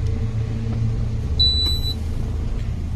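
A Chevrolet S10 2.4 pickup switched from CNG to gasoline idles with a steady, low, even engine rumble, close by, and a brief electronic beep sounds partway through.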